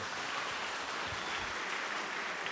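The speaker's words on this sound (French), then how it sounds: "on peut applaudir encore une fois la triplette Phileas Fogg" Steady applause from an audience at a public-speaking competition final fills the space, a dense even patter of many hands clapping at a moderate distance.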